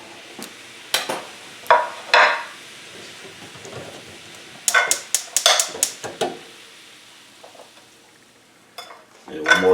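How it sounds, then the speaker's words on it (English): Green beans (haricots verts) in a pan with butter, heard as scattered bursts of stirring, clinks of utensil against pan and soft sizzling, with quiet gaps between the clusters of activity. "You can see they retain their nice green color. I'm going to throw a little butter on."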